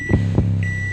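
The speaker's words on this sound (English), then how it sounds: "My microwave go beep beep." A microwave oven beeps with one clean, sustained electronic tone inside a hip-hop beat, following two deep bass thumps at the start, loud and close with no voices.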